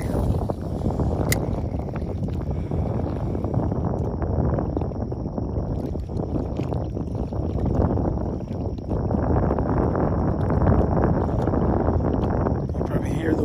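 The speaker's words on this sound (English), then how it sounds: "You probably hear the wind pick up." Steady wind rushing across an open lake in Nebraska while fishing from a boat, a dense continuous roar with microphone buffeting that swells slightly, close and loud throughout.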